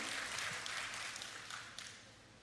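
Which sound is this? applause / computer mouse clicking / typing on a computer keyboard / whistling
applause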